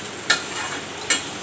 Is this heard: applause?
no